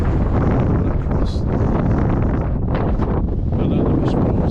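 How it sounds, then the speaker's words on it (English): Strong wind buffeting the microphone on the misty fells around Grey Knotts, producing loud, rumbling gusts that roar continuously and close up. "It's quite windy"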